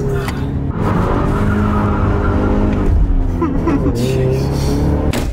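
Car tires squeal under hard acceleration as the vehicle pulls away, a loud sustained screech over a roaring engine, with voices talking over it.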